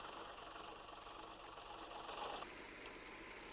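Glasgow Albion bus engine, a steady rattling, knocking run with a busy mechanical clatter, continuous and faint, heard alone.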